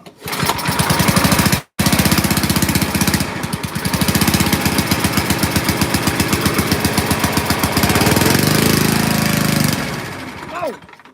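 An old, abandoned farm-built machine's engine fires up and runs loudly with a rapid, steady knocking chug, cutting out briefly near the start, then pulling back to a stuttering idle and revving toward the end.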